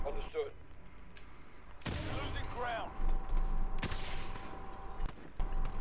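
Gunfire in Call of Duty: Modern Warfare, a few sharp broadband shots cracking out over a noisy background, with a voice talking briefly between them.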